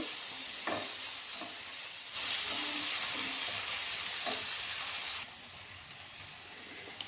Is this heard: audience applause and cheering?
no